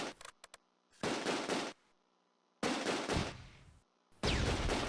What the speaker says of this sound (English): my BAR light machine gun squads target a German Schützen squad that has me enfiladed. I give them frontal and flanking fire.